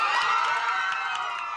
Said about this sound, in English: Yay, they all cheer.